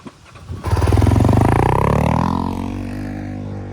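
A motorcycle engine roars up close, its tone rising and then settling as the bike slows under rear brake only, with a scraping rumble underneath.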